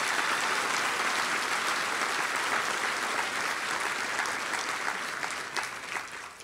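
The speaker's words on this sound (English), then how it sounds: "A round of applause for all of our nominees." A large audience at a law enforcement awards ceremony gives sustained applause for the nominees, a dense, continuous wash of clapping that holds steady and then starts to thin near the end.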